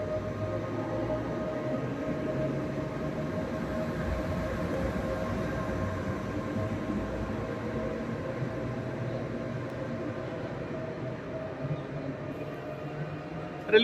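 A train running at speed in Germany, a steady low rumble and broadband rush of wheels on rail heard from on board, continuous and fairly even throughout.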